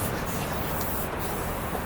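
White aerosol spray paint hisses onto a car in a steady, close, continuous rush that holds without a break and with no talking.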